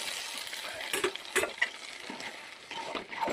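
Kesari being stirred in a pan, with a soft continuous sizzle and scraping under scattered metallic clinks of a spoon against the pan, close and fairly quiet, with no talk.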